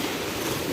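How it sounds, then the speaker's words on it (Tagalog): Big ocean waves at Dinadiawan beach rumble and wash in a continuous, fairly soft surf with some wind noise. "ang lalaki ng alon dito talaga sa Dinadjawan"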